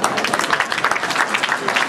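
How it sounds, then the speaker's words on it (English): Steady applause from an audience at a guidance and counseling day ceremony at a secondary school, a dense continuous patter of many hands clapping at moderate distance. "Please will give him a round of applause."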